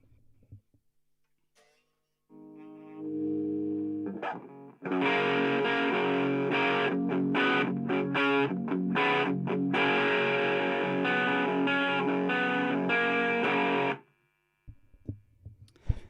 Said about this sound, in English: Here's my bass sound. The sound that I'm adding the effect to.